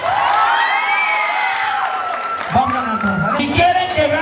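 A crowd at a lively outdoor event in Lomas del Carril, Temixco, Morelos cheers and whoops loudly. Shouting voices rise above a steady wash of noise, and someone speaks over the noise.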